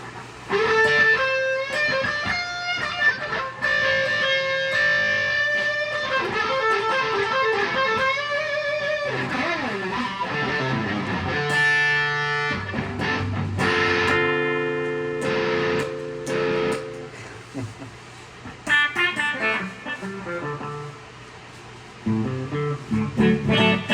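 A heavily overdriven electric guitar plays sustained chords and riffs, loud and continuous, with a gritty distorted tone and no voices.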